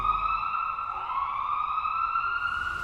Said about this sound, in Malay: Siren ambulans yang dulunya memenuhi bahagian kecemasannya kini sudah tidak sekerap dulu